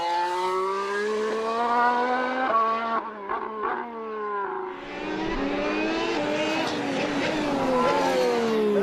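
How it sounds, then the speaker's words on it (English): Mercedes Formula 1 car driven by Nico Rosberg during testing at Jerez, its engine screaming loud and close with rising and falling revs, a brief dip in the middle before the high-pitched whine climbs again. "Take a listen to this. This is Nico Rosberg's Mercedes."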